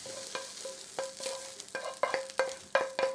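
A cashew nut roast mixture is stirred in a pan, with repeated spoon scrapes and clinks against the pan about every half second over a faint sizzle, with no talking.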